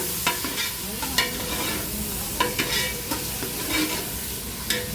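Onions fry in ghee in a pressure cooker over a high flame: a constant close sizzle, broken every second or so by sharp scrapes of stirring against the pot, with no talking.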